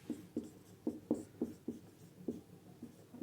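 Chalk or marker strokes on a board during a physics lesson, a series of short, rhythmic scratching taps, fairly quiet and close, with no talk.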